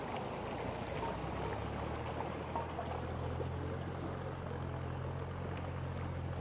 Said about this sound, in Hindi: पानी काफ़ी तेज़ चल रहा है ना।